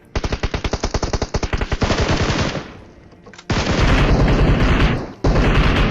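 Automatic gunfire in a shooter video game: fast, loud bursts of rapid shots in a steady rhythm, a brief lull, then heavier sustained firing and a final burst, close and dense, with no talk over it.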